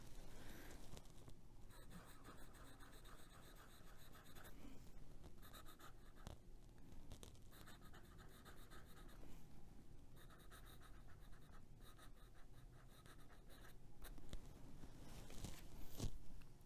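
TWSBI Classic fountain pen with a medium nib writing with free-flowing ink on paper, a soft continuous scratchy scrawl with short pauses between strokes, close and faint throughout.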